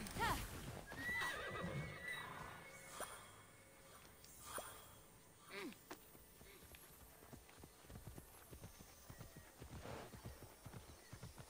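Horse hooves clip-clopping in the Immortals Fenyx Rising video game, a steady run of hoofbeats broken by whinnies and snorts, with game music and effects layered over it and no talk.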